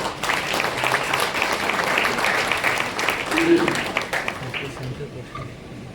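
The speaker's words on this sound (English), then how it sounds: "Once again, please a big applause for him." An audience at an inaugural business event applauds steadily in a hall, the clapping dense but moderate and fading slightly toward the end, with some talk mixed in.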